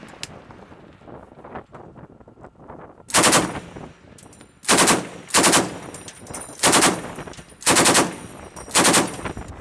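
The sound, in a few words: navy ship gunfire shooting practice at inflatable target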